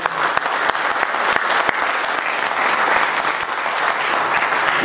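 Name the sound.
audience applause at a meeting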